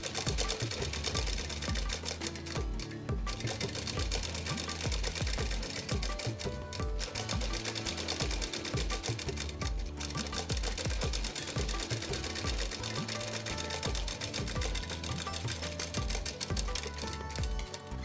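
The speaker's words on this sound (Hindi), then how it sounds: "इसको ढक करके पट्टी को सिलाई कर देंगे" A sewing machine stitches a fabric strip during a tailoring lesson, running in a continuous fast needle clatter that stays close and steady throughout, with faint background talk.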